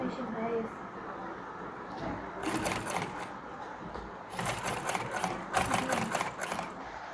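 Household sewing machine, freshly cleaned and serviced, running a test stitch with thread loaded: bursts of rapid mechanical chatter in short runs separated by pauses, under a steady low background hum.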